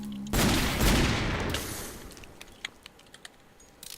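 A gun fires in the video game Towncraft, a loud burst of rapid shots that trails off into a decaying rumble, followed by scattered faint clicks and taps.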